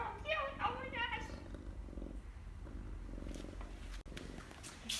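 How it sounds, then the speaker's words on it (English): A small rescued wild cat purring steadily and softly up close, a low rumbling texture running throughout, with someone talking over it for much of the time. "are you guys hearing this amazing purr?"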